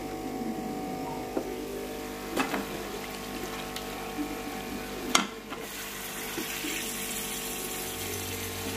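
Potatoes, cauliflower and chopped fenugreek fry in a pan with tomatoes in a home kitchen, a steady low sizzle with a few clinks and stirring knocks, heard alone without talk.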